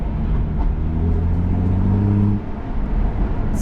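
BMW engine and exhaust with Active Sound Designer off, a loud, steady revving drone echoing off nearby buildings, then dropping abruptly to a lower idle-like rumble as the car downshifts or eases off.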